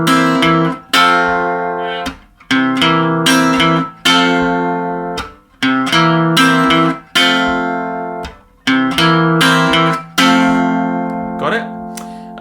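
Acoustic blues guitar plays the intro to a song, with loud, strummed chords falling in a repeating rhythmic pattern and short pauses between them.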